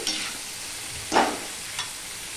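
Papaya and potato pieces frying together with turmeric in a pan, a steady sizzle broken by two or three brief spatula scrapes, close by.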